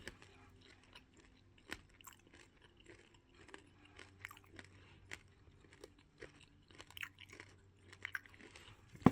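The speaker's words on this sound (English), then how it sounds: "So, first time eating falafel. It's crunchy, it's hard." Crunchy falafel being bitten and chewed at a gyros restaurant, with sharp crackly crunches scattered irregularly over a low steady room hum, close to the mic and fairly quiet.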